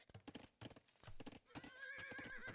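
A video game horse neighs in a long, wavering whinny after a run of clip-clop hoof steps, clear and close, with no talking.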